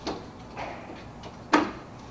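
A bamboo storage cabinet door with a magnet catch is swung and shut, a few soft knocks followed by one sharper clack as it snaps closed, close by in a quiet room.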